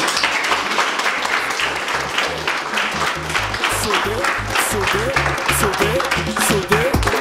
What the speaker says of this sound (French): Donc, vraiment, les enfants, l'applaudissent pour Mémé.